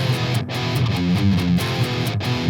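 Heavily distorted electric guitar playing a chugging riff, loud and upfront with rhythmic palm-muted pulses and short breaks.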